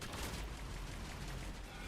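Gunfire in the video game Mass Effect 3, a dense, steady roar of fusillade-like shots and game noise with no clear gaps between them.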